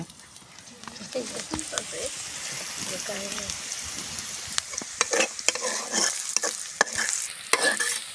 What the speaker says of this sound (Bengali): প্রথমে পেঁয়াজ মরিচ তেলের সাথে ভালো করে এভাবে ভেজে নিব